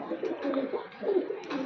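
A female pigeon coos close by in short, soft, low rolling phrases, two or three pulses in quick succession over light background noise.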